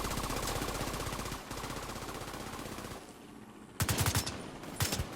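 An AUG rifle in The Division 2 fires long, rapid automatic bursts close by, then a brief pause before a few sharper, louder shots.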